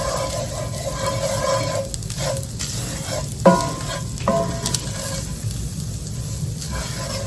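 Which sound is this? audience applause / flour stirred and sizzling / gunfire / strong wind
flour stirred and sizzling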